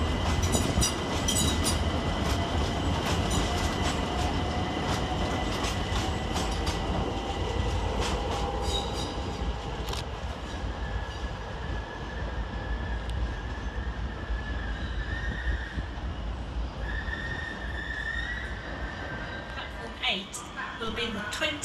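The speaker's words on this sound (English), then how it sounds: "over on the far side sees 378-234 depart, with the 1959 London Overground service to Richmond" London Overground Class 378 electric train pulling out of Stratford station with a loud steady rumble, wheel squeal rising and whining along the rails, and a station announcement voice over the noise.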